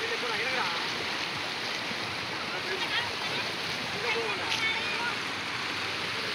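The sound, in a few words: river water flowing after heavy rain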